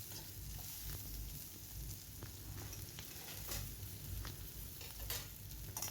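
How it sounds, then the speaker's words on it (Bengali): Onion, garlic and cashews sizzle steadily in a hot pan, a constant crackling hiss broken by the occasional scrape and clack of a spoon stirring, fairly quiet and close, with no talking. "2 মিনিটের মতো বেশ ভালো করে এটাকে ভেজে নিচ্ছি।"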